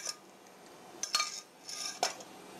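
A spoon scraping and clinking against a bowl or pan while thick bechamel is mixed with Supreme cheese for croquettes, in three short close bursts over quiet background.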